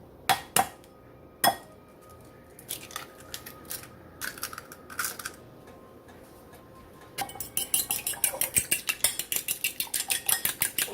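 Two large eggs are whisked in a bowl, scattered clinks at first, then a fast, steady run of close metallic taps against the bowl, with no voices.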